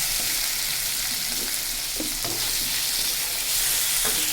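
Stuffed pointed gourd frying in oil with onion and garlic, a loud continuous sizzle close by, broken by a few soft scrapes of a spatula stirring the pan, with no one talking.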